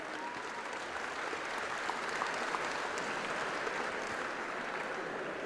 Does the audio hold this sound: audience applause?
yes